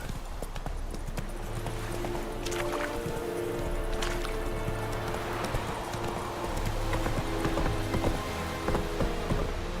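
Horse hooves clip-clop steadily at a gallop in The Witcher 3, a continuous rhythmic pounding over a dense background of game ambience, holding at an even loudness with a slight swell toward the end.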